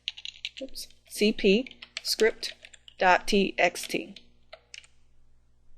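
Computer keyboard keys typed while entering a command in the vi editor, light clicks scattered under steady nearby talk.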